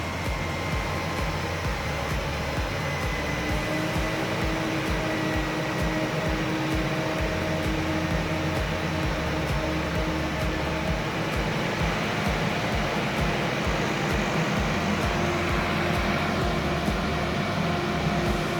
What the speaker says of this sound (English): Now what I can hear is the mid-plane fans.